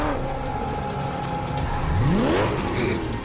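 A car engine revs hard and climbs in pitch as the car pulls away on a TV drama set, loud and close and heard with no speech.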